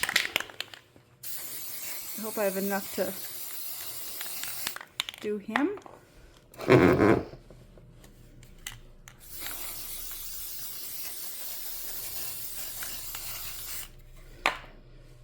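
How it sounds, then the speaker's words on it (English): Long hissing bursts from a Rust-Oleum spray paint can, a primer-plus-paint gloss in Ocean Mist, being sprayed onto a Christmas ornament. The spraying runs steadily and fairly close, then resumes after a pause, with brief speech between the bursts. "So I'm just going to finish spray painting him"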